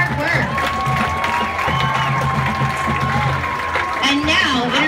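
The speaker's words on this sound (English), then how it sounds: "give a huge round of applause for both schools, band, and dance teams for all of their hard work." A crowd at a high school football field applauds and cheers for school bands and dance teams, a steady wash of clapping and shouting with a voice over a loudspeaker and music tones running beneath it.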